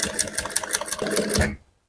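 A sewing machine runs in a quick, even stitching rhythm for about a second and a half while back-stitching a bra cup during bust caging, then stops abruptly.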